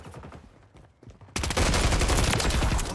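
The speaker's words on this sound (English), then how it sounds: "I'm taking effective fire." Gunfire in Modern Warfare 3 erupts suddenly after a quieter stretch of scattered sounds, becoming a loud, dense stream of rapid shots through the last half of the moment.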